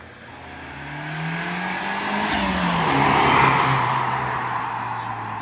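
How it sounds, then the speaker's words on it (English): A Ford Sierra Sapphire RS Cosworth drives past, its engine note swelling loudly as it approaches and then fading as it pulls away. No one speaks. "Superb sounding car."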